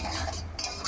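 Ghugni being stirred in a pot just after a little garam masala goes in, with a close scraping, clinking rhythm over a faint sizzle, no voices.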